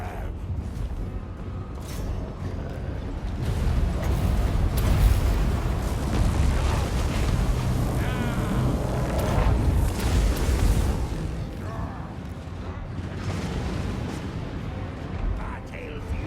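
Poison wind mortar shells bursting in a Warhammer battle game, a sustained loud barrage of booming explosions and rumbling battlefield chaos over about sixteen seconds, with shouting voices mixed into the din.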